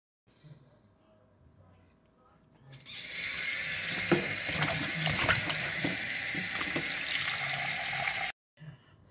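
Kitchen tap water runs steadily into a sink as food is rinsed for a Kittitian mix-up pot, a loud continuous splashing rush that starts suddenly after a quiet moment and stops abruptly.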